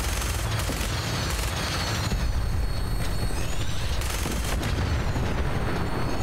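Gunfire and exploding cars in Fallout 4, fired from an aircraft: continuous, loud rapid shots layered with deep booms and blasts, a dense, unbroken barrage with no talking.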